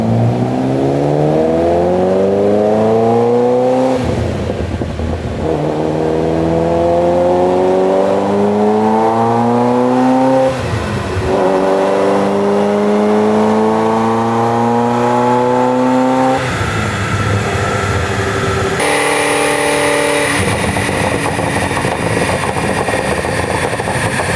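A Ferrari F40 engine revs hard on a dyno in repeated long pulls, pitch climbing steeply each time before dropping, loud and close with a steady roaring drone.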